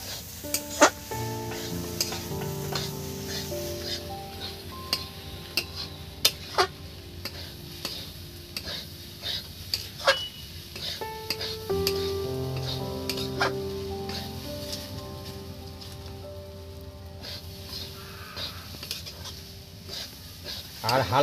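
A coconut mixture for naru is stirred in a pan, with repeated close scrapes and taps of a spoon against the metal over a low sizzle and a faint tonal hum in the background.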